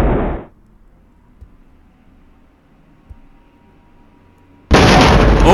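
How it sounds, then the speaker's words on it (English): Artillery strike explosions in the wargame Flashpoint Campaigns: a sharp, loud blast that cuts off into near silence, faint low thuds in between, then a second heavy burst of roaring noise at the end. "We've also got some more of our artillery coming in."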